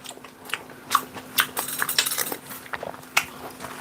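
Someone eats tteokbokki broth mixed with rice, with close, soft chewing, spoon clinks against a bowl and small crunchy bites in irregular bursts, fairly quiet.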